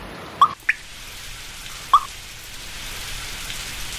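Monsoon rain over banana fields as the season begins: a steady soft patter of drops with a few sharp, close drips and plops early on, and no voices.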